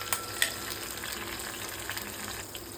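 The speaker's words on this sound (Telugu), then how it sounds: "ఆయిల్ హీట్ అయిన తర్వాత కొంచెం జీరా, ఆవాలు, గ్రీన్ చిల్లీస్ ఇది కొంచెం ఫ్రై అవ్వాలి." Cumin, mustard seeds and green chillies fry in hot oil with a close, steady sizzle and small pops and crackles, with a couple of sharper ticks near the start and no talking.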